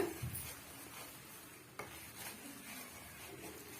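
Jaggery melting in a pan while being stirred, a faint steady sizzle with soft scraping of a spoon against the pan, low and close.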